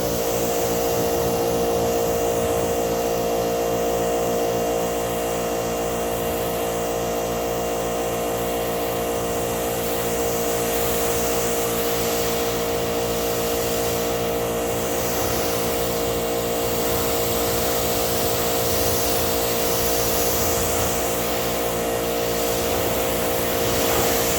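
A pressure washer runs steadily and loud for the whole stretch, rinsing car shampoo off a car in a constant motor drone and hiss with no pauses.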